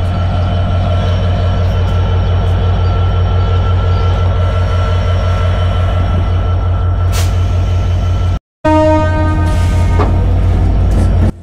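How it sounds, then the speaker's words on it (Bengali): A passenger train pulls out of a station in Bangladesh with a heavy, continuous close rumble and rhythmic wheel clatter, broken by a brief cut before the running noise resumes, with no talking. "তো এখন আমাদের ট্রেনটা ছেড়ে দিল"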